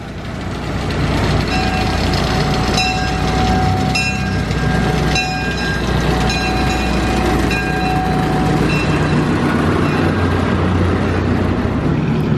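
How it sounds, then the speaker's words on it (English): Purple Zephyr amusement park train rolling past at Dorney Park in Allentown, a loud, steady rumble and wheel clatter up close with brief horn-like tones over it, continuous throughout. "Got this purple train coming through."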